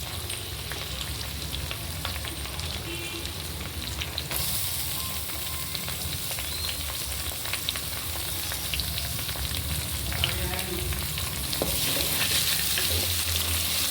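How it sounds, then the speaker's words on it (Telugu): Thinly sliced onions frying in hot oil for a millet and moringa kichidi, a steady dense sizzle with occasional stirring scrapes, close and fairly loud, brightening toward the end, no voices. "బ్రౌన్ కలర్ వచ్చే వరకు బాగా ఫ్రై చేసుకోవాలి"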